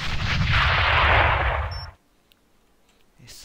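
A grenade goes off in the online shooter Alliance of Valiant Arms, a loud, roaring blast that rumbles for about two seconds and then cuts off abruptly into near silence.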